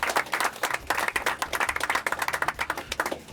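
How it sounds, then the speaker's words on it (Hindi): Audience applause for a young women's under-19 cricket player from Khairpur, a light patter of clapping that stays moderately quiet and steady. "ज़ेबुन्निसा के तो तालियां होनी चाहिए थोड़ी सी।"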